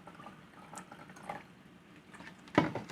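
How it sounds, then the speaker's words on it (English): A short, strong pour of liquor, likely coconut rum, splashes into a glass near the end after quiet room noise, ending in a brief burst of liquid sound. "That was a strong pour."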